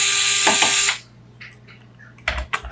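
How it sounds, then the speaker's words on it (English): Screws being removed from a Sharp MX-407FU1 fuser unit: a loud, close ratcheting whir lasting about a second, then quiet small clicks and handling, and a short mechanical burst at the end. "I'm gonna take all these screws off at the top."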